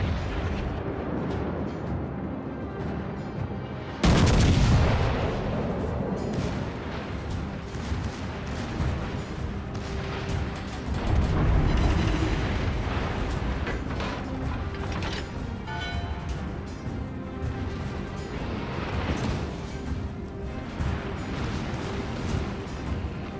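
Battleship main guns fire in World of Warships Legends aboard the Tier VII premium Massachusetts, a sudden heavy boom early on and another rumbling blast later, over a constant din of distant explosions and combat noise.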